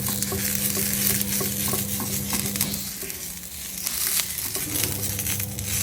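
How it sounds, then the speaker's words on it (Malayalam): An onion half rubs oil across a hot dosa griddle, giving a steady close sizzle with scraping strokes that ease off briefly near the middle. "ആ സവാള ജസ്റ്റ് ഒന്ന് ഉരച്ചിട്ട് ജസ്റ്റ് ഒന്ന് എണ്ണ ഇതിങ്ങനെ തേച്ച് കൊടുക്കുകയാണ് നമ്മൾ"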